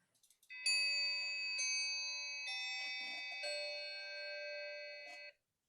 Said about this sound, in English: The hour bell sounded, a melancholy one.